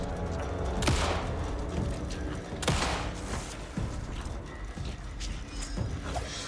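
Mechanical clicks and clacks of a gun being reloaded in Alan Wake II, several sharp metallic snaps spaced through a steady low ambient rumble, no talking.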